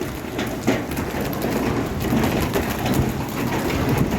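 Heavy rain pours down steadily with hard, scattered impacts of hailstones rattling throughout, loud and close, with no voices.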